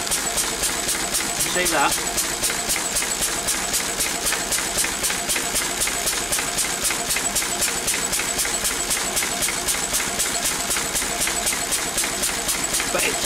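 A Lister D stationary engine runs on a dyno test with a rapid, regular beat that stays steady and close throughout, while someone talks briefly over it.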